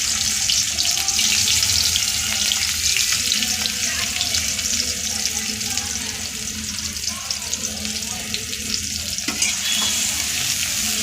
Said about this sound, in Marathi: आपलं तेल तापलेलं आहे, तर आपण त्याच्यामध्ये एक तमालपत्र घालूया आणि नंतर एक कांदा घालूया।